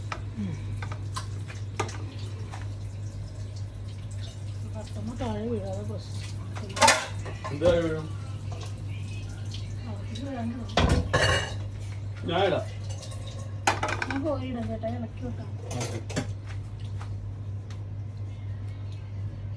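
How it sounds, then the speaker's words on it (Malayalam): Fried rice being mixed in a pan, with intermittent clinks and scrapes of a utensil against the pan over a steady low hum, while people talk now and then nearby. "റൈസ് മിക്സ് ചെയ്താൽ മതി"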